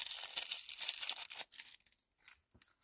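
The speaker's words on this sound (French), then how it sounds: "Les ciseaux." Scissors snip and tear through plastic packaging from a Shein scrapbooking haul, with a burst of crinkly cutting and ripping noise up close, then a few sparse snips fading toward quiet.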